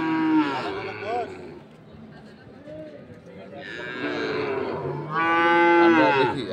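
Cattle at a busy livestock market low with long moos, one near the start and louder calls after four and five seconds, over crowd murmur and background chatter.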